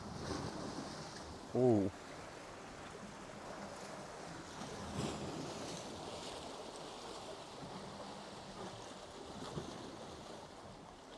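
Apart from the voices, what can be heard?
ocean waves with the tide coming in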